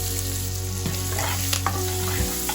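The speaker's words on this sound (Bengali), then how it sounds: "পেঁয়াজটা এবার কিছুক্ষণ ভেজে নেব" Chopped onion sizzles steadily in hot oil with fried lentils, peanuts and curry leaves, a close, constant frying hiss with a few soft stirring scrapes and utensil clicks.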